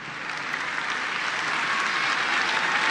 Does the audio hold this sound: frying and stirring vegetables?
no